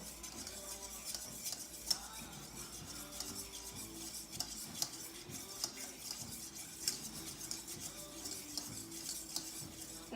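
Batter for fried Oreos is stirred in a bowl with a utensil, producing a steady rhythmic scraping and rubbing sound at close range, with no talk over it.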